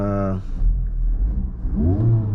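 A Honda Civic Type R FL5 engine revs with the muffler valve open on its tri-tip exhaust, a loud rising growl that swells near the end, with someone talking over the first part.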